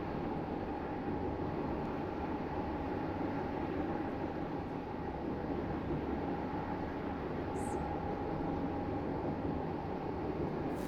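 Steady low rumble of a train arriving at Stepford East station in a video game, a continuous mechanical drone with faint hum and no voices.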